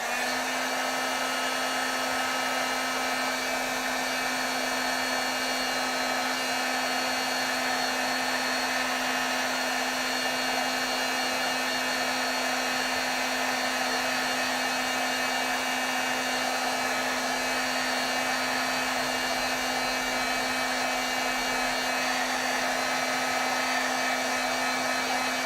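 A handheld heat tool blows hot air over wet, thick dots of acrylic paint on a card to heat set them, giving a loud, constant whirring hiss with a steady motor hum and no pauses.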